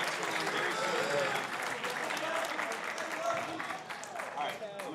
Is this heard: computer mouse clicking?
no